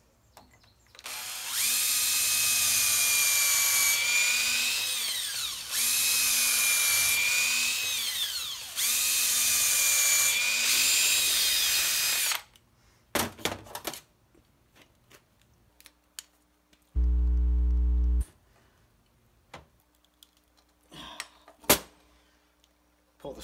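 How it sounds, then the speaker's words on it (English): Power drill boring out a suspension bushing on a rebuilt Jaguar independent front suspension for a 1955 Buick Special, with four loud whining bursts that slow under load, then scattered clanks, a brief low hum and quiet handling sounds. "All right, I'm just gonna drill this out."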